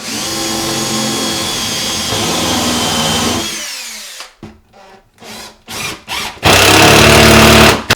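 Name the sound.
power drill driving into a cabinet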